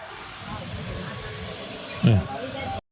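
A train pulls out of Chittal railway station, rumbling steadily with a low mechanical drone and hiss, a brief louder squeal near the end, then the sound cuts off.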